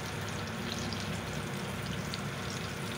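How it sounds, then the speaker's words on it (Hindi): Green chilies fry in hot oil with a steady, dense crackling sizzle that stays loud and even throughout, with no talking. "अब हम मिर्चें तेल में फ्राई कर रहे हैं"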